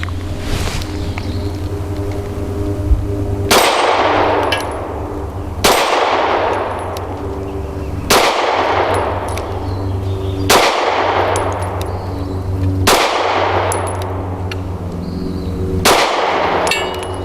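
Taurus GX4 pistol fired at steel targets outdoors, each loud sharp shot ringing with a metallic clang, about seven evenly spaced reports with long decaying rings between them.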